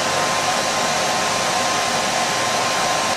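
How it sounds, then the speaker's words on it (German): A hair dryer runs steadily on wet shoes indoors, a loud continuous blowing whoosh close by with no pauses or talk. "es wird langsam jetzt ein bisschen warm hier durch den Föhn"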